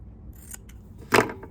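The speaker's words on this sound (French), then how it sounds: "je vais découper les coins sans toucher à ma couture, bien sûr" Scissors snipping the corners of a sewn fabric cushion: a couple of faint small clicks, then one crisp, close cut near the end, alone.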